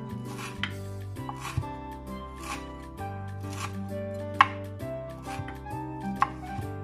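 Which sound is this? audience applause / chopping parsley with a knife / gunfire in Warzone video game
chopping parsley with a knife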